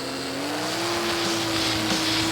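A race car engine revs up for the start of a 6-hour endurance race at Grattan Raceway, its tone holding a steady high pitch that rises slightly and stays loud and close, with other engines droning behind it.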